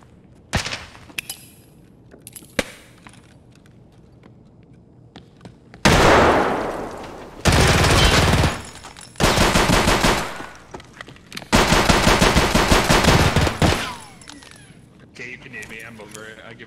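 Loud bursts of automatic gunfire ring out in the video game Escape From Tarkov, with several sustained volleys and a few isolated shots, while people talk in between.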